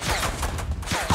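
Gunfire in the Fortnite video game, a quick run of several shots with game effects overlapping, fairly loud and close throughout this brief stretch.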